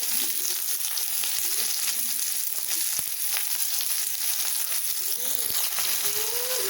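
Two large square-cut onions with a little salt sauté in a pan for mushroom Manchurian, producing a continuous even sizzle with occasional faint stirring clicks, close up and without talk.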